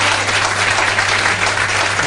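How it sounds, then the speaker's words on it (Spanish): Audience applause filling a packed restaurant at a political gathering, a dense steady wash of clapping heard close and alone for a couple of seconds. "está aquí también con nosotros y que se merece un aplauso"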